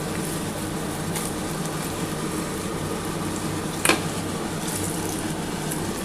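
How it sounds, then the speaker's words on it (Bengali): Eggplant slices frying in a pan of hot oil while cooking a hilsa fish and eggplant curry: a steady, close sizzling hiss with a single brief clink partway through. "আমার কিন্তু লাল করে ভাজা হয়ে গেছে বেগুনগুলো।"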